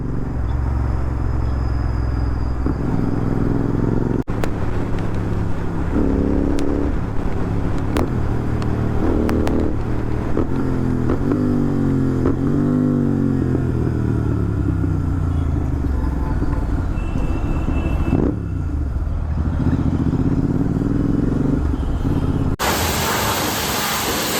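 A Royal Enfield GT650 twin-cylinder motorcycle engine idles and is revved repeatedly, close and loud, with throttle blips rising and falling over a steady rumble and no talking.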